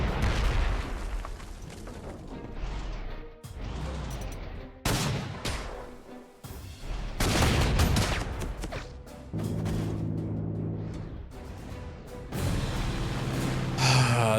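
Artillery fire in the Panzer Corps 2 strategy game: repeated heavy booms and blasts in irregular bursts, loud and close, with dense rumbling fire and no talk.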